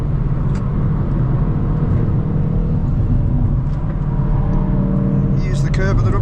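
A Hyundai i20 N or i30 N hot hatch driven on the Nurburgring track, its engine a steady, loud drone with continuous rumble throughout and a brief higher rasp near the end.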